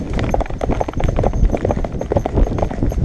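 Horse hooves clip-clop rapidly and continuously, close and loud, a dense rhythmic clatter with no break over the short span.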